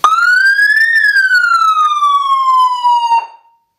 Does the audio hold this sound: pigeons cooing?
no